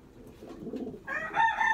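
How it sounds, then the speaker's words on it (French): A racing pigeon coos softly and low near the listener in a loft, followed by a brighter, louder call from a bird. "C'est vraiment un beau pigeon."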